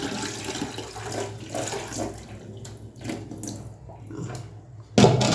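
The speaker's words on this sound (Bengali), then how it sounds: "এবারে আমি ডালটা ধুয়ে নিলাম" A bowl of lentils is rinsed under running water, with the tap running and grains swishing and sloshing in uneven bursts, and a sharper splash near the end.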